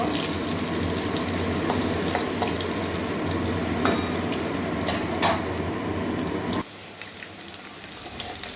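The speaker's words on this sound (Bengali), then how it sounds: "আলু গাজর ভাজা হয়ে গেছে গাজরের রংটাও চেঞ্জ হয়ে গেছে" Potatoes and carrots fry in hot oil, a loud continuous close sizzle with occasional crackles and stirring clinks, easing to a quieter hiss near the end.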